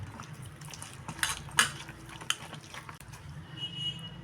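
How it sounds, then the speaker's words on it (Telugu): Chili bajji batter being mixed with water in a bowl, with wet, uneven squelching and scraping plus a few clinks against the bowl, close and fairly quiet. "ఇలా బాగా మిక్స్ చేసుకోండి"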